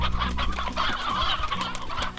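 A stone chicken in the Slime Rancher video game clucks repeatedly in short, close, busy bursts with no voices heard.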